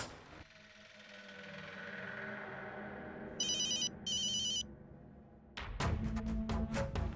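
A telephone rings in two loud electronic bursts partway through, after a stretch of steady background tone, followed by sharp clattering noises near the end. No one speaks.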